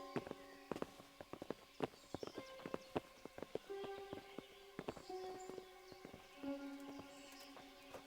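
Horse hooves clip-clop in the medieval video game Kingdom Come: Deliverance, an irregular run of quiet, close hoof strikes mixed with a few faint tonal game sounds.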